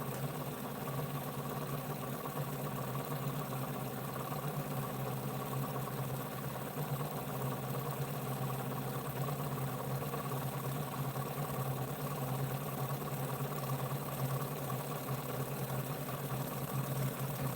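Steady, even hum and whir of a pulse motor spinning above 1,000 RPM, a constant drone with no breaks or changes in pitch throughout.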